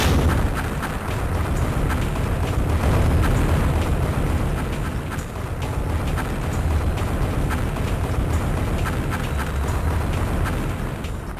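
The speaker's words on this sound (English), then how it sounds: "Structures go down with heavy explosions, which can damage infantry badly." Heavy explosions from structures collapsing in a Nintendo DS real-time strategy game, a dense, continuous rumbling roar of overlapping booms and blasts that keeps going loudly for the whole stretch with no talk.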